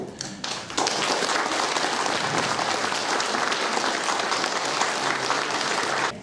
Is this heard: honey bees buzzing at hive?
no